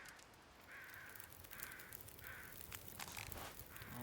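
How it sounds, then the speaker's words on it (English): Crows caw in the snowy wilderness of the video game The Long Dark, about three hoarse calls in a loose sequence, faint and distant over a quiet wind-like background. "And we already hear crows telling us about our bear."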